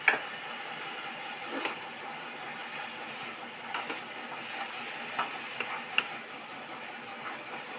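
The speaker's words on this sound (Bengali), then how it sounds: "এখন আমার মশলা ফ্রাই হয়ে গেছে" Spices and tomato paste fry in oil in a pan for an eggplant dish, giving a soft, steady sizzle with occasional light scrapes and clicks of stirring close by.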